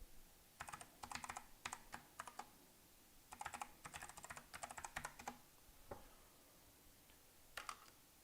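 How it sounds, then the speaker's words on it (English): Computer keyboard typing in quick bursts of clicky keystrokes with short pauses between them, fairly close and clear, during a live online question-and-answer stream. "Here, I'll type it in."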